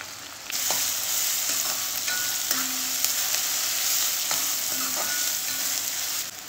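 Garlic, ginger and green chilli fry in oil with curry leaves for an elephant foot yam pickle, a sudden burst of close, steady sizzling with faint spatula scrapes and clicks.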